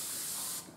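Balea water spray from a budget pump bottle, a single steady hiss of mist lasting most of the moment before tapering off abruptly, close and fairly loud with no talking.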